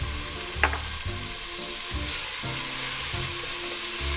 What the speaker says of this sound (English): Add a little bit more olive oil.